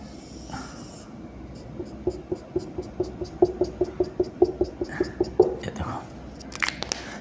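Marker or chalk scratching across a board during a Class 10 physics lesson, a run of quick rhythmic strokes building to firmer squeaky taps, heard up close in a quiet room.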